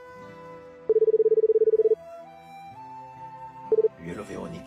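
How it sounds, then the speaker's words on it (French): A rapid string of telephone keypad tones beeps out steadily, followed after a pause by a couple more short tones, and then a voice begins over a quiet musical background. "Oui, allô Véronique"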